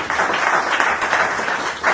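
A church congregation at a morning service claps together, a loud, close burst of dense applause that swells and dips slightly over a couple of seconds.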